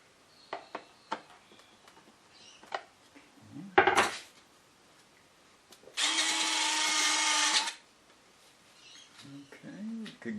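Screws being driven into the retractable landing gear of an RC plane: a sharp clatter, then a steady two-second whir of a small driver close by, with light handling taps before and after.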